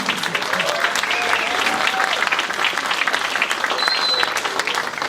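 Steady applause from an audience at a high school jazz band concert, greeting a soloist; clapping fills the whole stretch at even loudness, with a few faint voices and a whistle mixed in.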